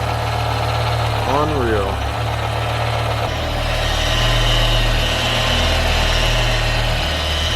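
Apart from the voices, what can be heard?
rebuilt BMW M5 E60 V10 engine idling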